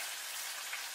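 A faint, steady sizzle of flour-coated chicken frying in a pan, a soft crackling hiss with no voices.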